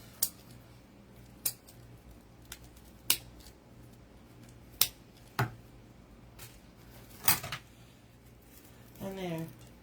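Scissors snip off the ends of a handmade sunflower craft, giving a series of sharp, close clicks spaced irregularly, with a brief rustle at the end.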